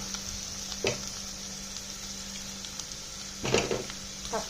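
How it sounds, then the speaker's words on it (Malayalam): Tomatoes frying in a pan with green chillies for a clam meat dish give a soft, steady sizzle with a few louder stirring scrapes, faint and close. "തക്കാളിയും കിടന്നൊന്ന് ഫ്രൈ ചെയ്ത് വരുമ്പോഴത്തേക്കും"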